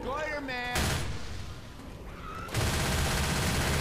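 Rapid assault rifle fire in the Left 4 Dead 2 zombie shooter, loud and close, breaking off for a moment and then resuming as a dense burst. Game voices and effects are mixed in.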